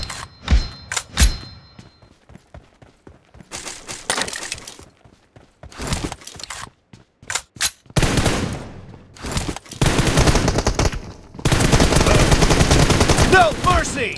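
M416 assault rifle gunfire in the PUBG Mobile shooter, with loud bursts and single shots alternating with sustained rapid automatic fire, close and dense toward the end.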